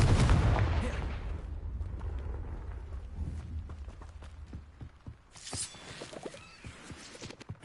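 In the video game Hogwarts Legacy, a Confringo fire spell bursts with a loud booming blast at the start, then crackling, rumbling impacts and scattered thuds fade and flare again near the end.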